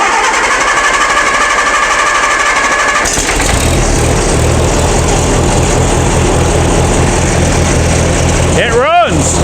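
A repaired machine engine with a freshly reworked hydraulic system runs steadily and loudly, a constant droning idle from start to finish, with a short whining sweep near the end.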